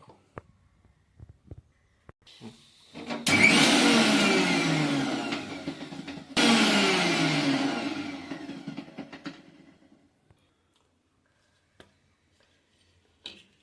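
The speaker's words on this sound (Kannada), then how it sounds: "ಇವಾಗ ಮಿಕ್ಸಿಗೆ ಹಾಕಬೇಕು." A kitchen mixer grinder coarsely grinding green chillies, garlic cloves and coriander, running in two loud whirring bursts of about three and four seconds, separated by a brief stop, then winding down into silence.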